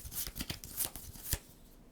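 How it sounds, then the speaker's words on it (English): Playing cards being shuffled by hand during a tabletop board game, a quick two-second flurry of riffling, snapping card noise, close and fairly soft, with no talk. "and shuffle them up, and then take one of them"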